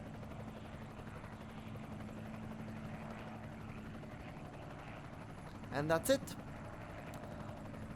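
Helicopter units whirring in the video game Panzer Rush, a low steady rotor drone beneath a faint voice, broken near the end by a quick pair of sharp clicks.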